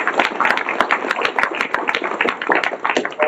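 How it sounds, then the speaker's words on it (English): Crowd applause for GMEA All-State Band students, dense steady clapping from many hands filling the room for about three seconds, with no talk over it. "give them a round of applause"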